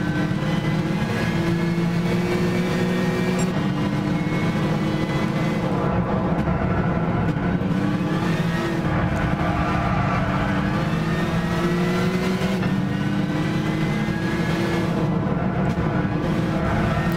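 A muscle car in the racing game Gran Turismo 6 drives at full song, its loud engine droning steadily and rising and falling in pitch with gear changes throughout.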